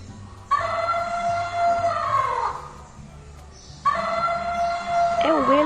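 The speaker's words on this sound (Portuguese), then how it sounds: "É o elefante." An elephant trumpets twice, each blast long, brassy and strongly tonal. The second call ends in a wavering, bending note, loud and near over a low background hum.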